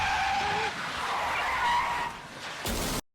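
A car skids with a sustained tire squeal in a scene from the TV drama The Americans, and a short, loud crash of the wreck cuts off abruptly.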